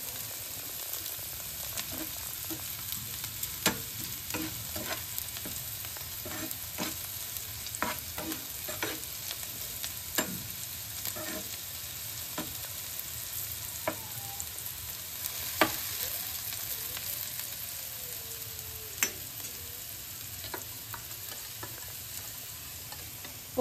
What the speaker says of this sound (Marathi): सो अजून एक 2 मिनिटं परतूयात.